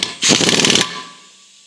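An impact wrench bursts onto the rear axle nut of a Scout's Dana 44 axle, giving a loud rattling hammer for roughly half a second before spinning down into a fading mechanical whine.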